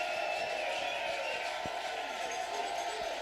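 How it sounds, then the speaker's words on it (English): Bulldog fans in the stands at a Sandpoint vs Lewiston high school varsity football game make a distant, steady crowd roar with cheering, a continuous hum under faint scattered thumps. "McArcher as the Bulldog crowd generating some noise"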